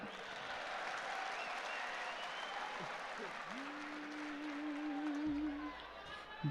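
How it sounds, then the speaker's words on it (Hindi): Audience clapping at a grand mushaira poetry gathering in Indore, a sustained crowd of hands beating steadily, with a voice calling and singing over it partway through before the applause fades. "एक बार ताली बजा दो।"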